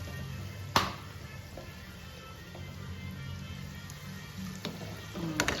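Vada pav vadas frying in hot oil in a home kitchen, a steady low sizzle with a few sharp clinks and taps of a utensil, no voice heard.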